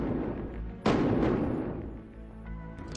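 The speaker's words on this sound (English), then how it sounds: "gunshots." A single sharp gunshot from a .40 caliber pistol fired inside a house at night, a sudden loud crack followed by a long fading reverberant decay.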